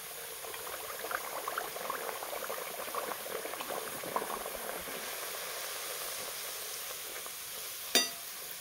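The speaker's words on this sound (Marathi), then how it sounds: "तर आता आपलं तेल गरम झाले तर आता आपण पुऱ्या तळून घेऊया" Puris deep-frying in hot oil, a dense steady bubbling sizzle with small crackles and one sharp spatter near the end, close and alone without any voice.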